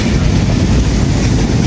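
The Sundarbans Express between Dhaka and Khulna rumbles loudly from inside, a dense, steady roar of wheels and carriage noise with no distinct clacks or talk.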